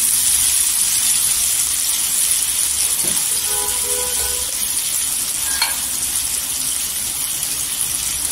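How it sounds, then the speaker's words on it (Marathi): Potatoes frying in hot oil in a pan while dry spices are tipped in, a steady close sizzle and hiss with a few faint clinks of a spoon, no voices. "इथे बटाटे तेलावर परतलेले आहेत 1-2 मिनिटं"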